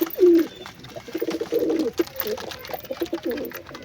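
Pigeons coo nearby in low, throaty bursts, several calls overlapping in an uneven rhythm.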